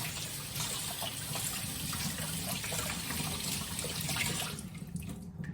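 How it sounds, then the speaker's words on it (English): Tap water runs steadily into a kitchen sink as hands are rinsed while salmon is being prepared. The flow is a continuous, fairly loud splashing rush that eases off near the end. "rinse my hands off."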